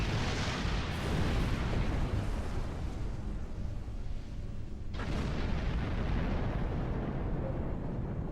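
Dense, continuous rumbling bursts of torpedo fire and explosions in the Star Trek Online space combat game, loud and sustained with a sharp cut and renewed roar midway, no talk.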